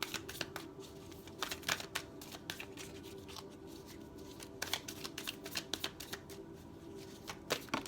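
Tarot cards are shuffled close by, giving soft riffling flutters and sharp papery slaps in irregular bursts over a quiet room, with no talk.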